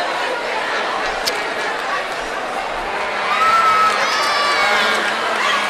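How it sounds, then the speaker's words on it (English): A football stadium crowd fills the air with steady chatter and cheering that swells louder toward the end, while voices talk close over it. "I think our late arriving crowd on this side at least has arrived."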